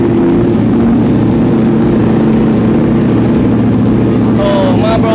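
A Ducati Streetfighter V4S motorcycle engine idles loud and close with a dense, rumbling drone, then gives a couple of quick rising revs near the end.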